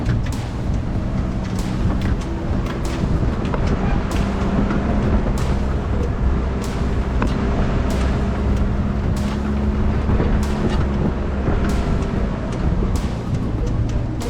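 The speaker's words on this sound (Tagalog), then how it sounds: "Kaso aangal makina mo." Vehicle engine droning steadily on a rough mountain road near a resort, a loud continuous rumble mixed with wind buffeting and repeated knocks and jolts from the uneven surface, no talk.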